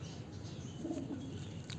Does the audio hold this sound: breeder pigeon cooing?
yes